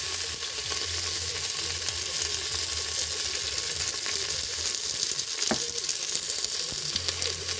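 Crushed onion and garlic fry in hot oil with mustard seeds for a duck curry, giving a steady close sizzle with occasional scrapes and a sharp clink partway through.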